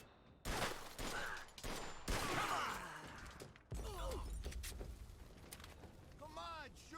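Gunfire rattles in Mafia 2 Definitive Edition, a video game, as a string of loud, close, sharp volleys and shattering bursts. They come in bunches over a few seconds, and shouted voices are heard among the shots.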